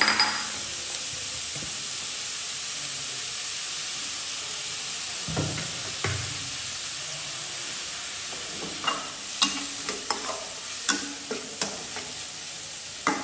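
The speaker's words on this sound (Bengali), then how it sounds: "পেঁয়াজটাকে একটু বাদামি করে ভেজে নেব" Chopped onions fry in extra oil in a pan for a turkey egg bhuna, a steady broadband sizzle running throughout, with occasional sharp clinks and stirring scrapes toward the end; no one speaks.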